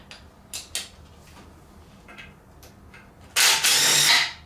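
10 mm oil pan bolts being removed from an LS engine, with a few short metallic ratchet clicks and tool taps followed by a loud burst of a power tool spinning near the end.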